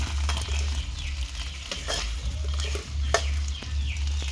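Insects frying in hot oil in a pan, a steady sizzle and crackle with scattered pops and stirring scrapes, close and continuous without speech.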